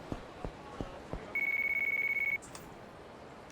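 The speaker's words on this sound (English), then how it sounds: "Phone call!" A telephone rings in the Yakuza 3 video game as one steady electronic tone that holds for about a second. A few soft clicks and taps come before it, and no one speaks.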